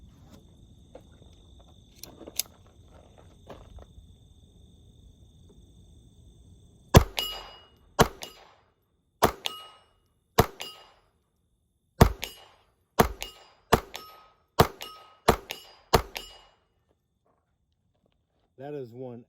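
A 1911 pistol fired at roughly 50 yards outdoors: about a dozen sharp, loud cracks in an uneven series, some paired close together, each with a short decaying tail, after a quieter stretch of handling noise and faint background sounds.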